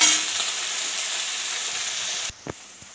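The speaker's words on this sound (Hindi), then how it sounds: "तो प्याज अब हमारा भून के तैयार हो चुका है" Chopped onions fry in a pan for a mustard-greens vegetable dish, giving a loud, steady broadband sizzle that cuts off abruptly near the end, followed by a couple of soft clicks in the quiet.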